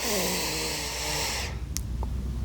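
A long, steady exhale during a pelvic floor breathing exercise, breathy and close, followed by a brief pause and faint small sounds.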